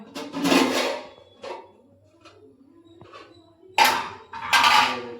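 A metal cooking pot is set down on a gas stove, giving several loud clanks and scrapes in separate bursts with quieter handling noises between them.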